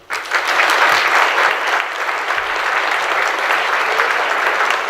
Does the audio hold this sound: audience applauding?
yes